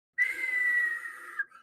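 A human voice imitates the falling whistle of an incoming bomb or missile: one sustained, clear whistling tone of about a second and a half, close and alone, ending in a brief breathy catch.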